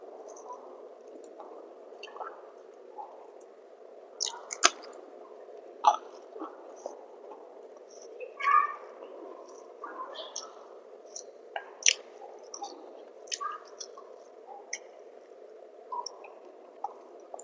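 Soft, close mouth sounds of someone eating Gobindobhog rice with ghee, fried potatoes and fried eggplant: scattered wet chewing, squishes and small clicks over quiet room tone.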